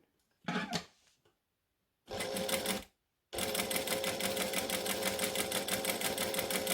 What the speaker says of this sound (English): now I'm going to try and stitch back through those same stitches